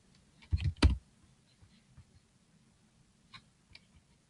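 Computer keyboard typing, a quick cluster of crisp key clicks followed by a few isolated taps, close and fairly quiet in an otherwise still room.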